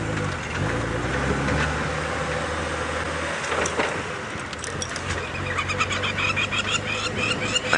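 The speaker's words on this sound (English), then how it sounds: "the birds are out in full force" Many birds call and chirp during a sunset safari drive, over a steady, busy outdoor background, with bursts of bright tweeting layered throughout.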